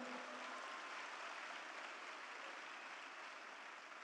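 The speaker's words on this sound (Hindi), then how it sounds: "एक बार जोरदार तालियां बजाएं, जोरदार।" Applause from an audience at an Indian family success celebration, a faint, steady wash of clapping heard from some distance that continues without a break and without talk.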